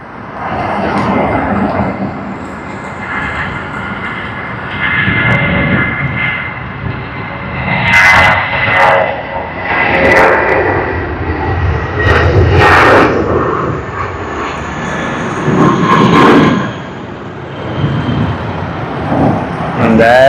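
Boeing 787 jet airliner arriving at Sydney Airport, a broad, loud engine roar that swells and fades over a long stretch, with some sharp noises mixed in.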